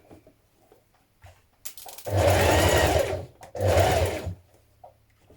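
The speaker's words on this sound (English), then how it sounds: "we're stitching across the shoulder again now, look" Two bursts of a sewing machine, each lasting about a second, stitching a flat fell seam across the shoulder of a long coat, with quiet pauses in between.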